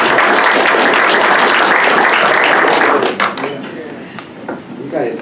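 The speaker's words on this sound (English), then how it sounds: "Let's give her a round of applause." Applause from members at a Saline County Republican committee meeting fills the room for about three seconds, then fades into scattered claps and murmuring voices.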